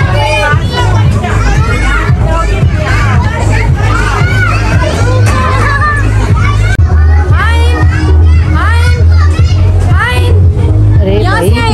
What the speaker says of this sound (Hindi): बच्चों ने ऐसा कोई शोर मचा रहा है, छोटे छोटे बच्चे रो रहे भाई